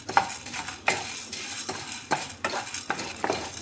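Whole cardamom, cloves, cinnamon and fennel seeds fry on low heat in a pan for a chicken gravy, heard as a soft sizzle under repeated scraping stirs of a spoon, about once every half second, close and fairly quiet.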